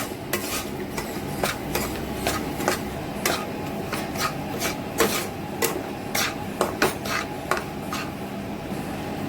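Semolina and gram flour roasting in a pan: a spoon scrapes and stirs steadily over a constant low sizzle, the sharp metallic strokes coming in an uneven rhythm close by with no talking.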